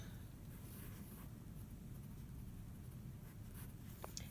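A pen or pencil sketches a sewing project idea on paper, a soft continuous scratching over a steady background hiss with no talk.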